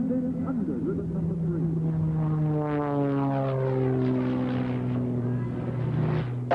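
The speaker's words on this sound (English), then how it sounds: "you are watching the aerobatic biplane, the Randolph Challenger of Mr. Sean D. Tucker" An aerobatic biplane at an airshow, flying low through ribbons, passes with a steady propeller-engine drone whose pitch falls clearly as it sweeps by, loud and close, with no talk.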